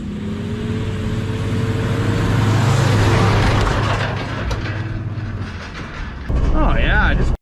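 A motorized Korean rickshaw drives along with a steady low engine rumble and droning tone that swells, eases, then picks up louder near the end, close by.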